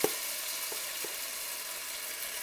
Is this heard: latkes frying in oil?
yes